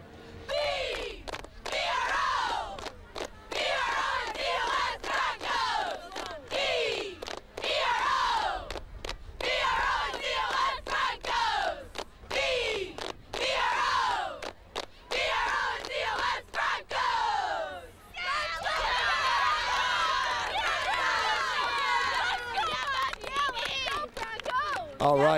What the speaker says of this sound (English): Go ahead and do a cheer.